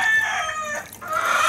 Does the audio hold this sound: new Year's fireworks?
no